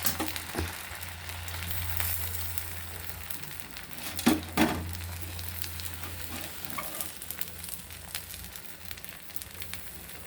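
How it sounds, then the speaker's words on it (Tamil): Onion dosa sizzling and frying steadily on a hot pan, a continuous close crackle with a couple of brief louder clatters midway, no voices. "இப்போ ஆனியன் தோசை மட்டும் ஊற்ற போகிறோம்"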